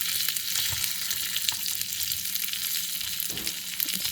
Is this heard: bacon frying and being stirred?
yes